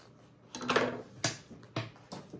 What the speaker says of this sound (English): And I am going to trim up my extra zipper tape here